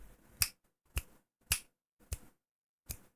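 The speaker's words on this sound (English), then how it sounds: "I can't even snap my fingers properly right now." Five separate finger snaps, sharp and close, spaced about half a second apart with near silence between them.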